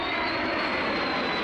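Vietnam War aircraft engine roars loud and continuous with a sharp, high-pitched whine held over a dense rumble, close and alone, with no talking.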